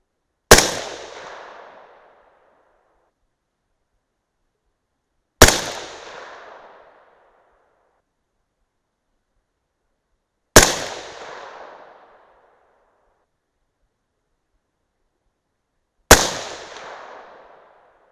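A 6.5 Grendel rifle fires 107-grain Sierra MatchKing bullets: four loud single shots spaced about five seconds apart, each followed by a short ringing echo, with silence between them and no talk.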